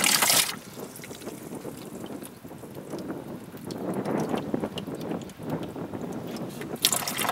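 Water rinsing through an Eco Healer storm drain filter outdoors, a steady broad wash of flowing, trickling water that swells in the middle and carries on continuously with no talk.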